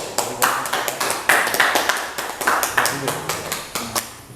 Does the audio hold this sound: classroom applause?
yes